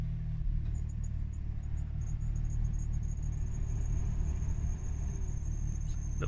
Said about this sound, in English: A little bit of slipping from the alternator belt, which is a bit annoying